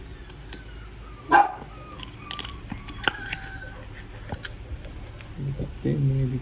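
Small household dogs bark and yip in short bursts indoors, their sharp calls scattered across the scene and rising louder near the end while someone talks over them.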